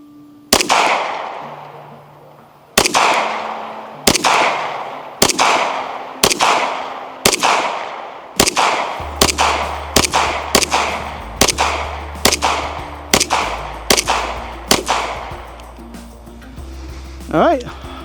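A Bersa M2XI 2011 pistol fires about fifteen sharp, loud reports outdoors, spaced roughly a second apart and quickening toward the end, with a brief low hum in the background.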